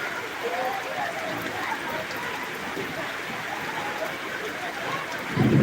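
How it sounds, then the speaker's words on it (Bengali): Heavy rain pouring at Kalapara in Patuakhali, a dense, steady hiss of downpour that stays loud and even throughout, swelling slightly at the very end. "এখানে বৃষ্টি হইতেছে প্রচুর বৃষ্টি হইতেছে"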